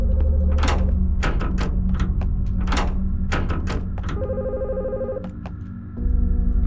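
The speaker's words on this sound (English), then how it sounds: "Do I need to pick up a phone call?" A telephone in a video game rings with repeated bursts over a steady music bed, ending in a short pause before the music resumes.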